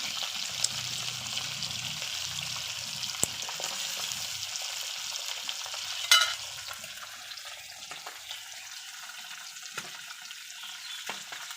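Dakatia river fish fry crisp in plenty of oil in a village kitchen, giving a steady soft sizzle with occasional pops and one brief clatter midway. No one talks.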